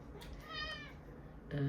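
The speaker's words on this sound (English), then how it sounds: "That's my cat. She's gonna be talking a little bit too" A pet cat meows a few times nearby, with soft noise around the calls and a voice starting briefly near the end.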